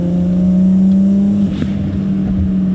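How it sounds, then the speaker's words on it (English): A turbocharged 2.8L R34 GTR engine drones steadily up close with a rough exhaust note through an HKS exhaust, then briefly shifts pitch as the revs change. "I hope that the exhaust note and stuff picks it up nicely, and the spoolie boy noises"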